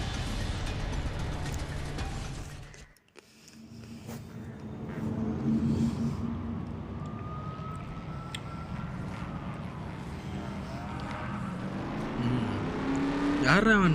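Race cars roar and rev in NFS Most Wanted Mobile gameplay, engines rising and whooshing past, with a brief dropout and a final rising rev, while someone talks over them.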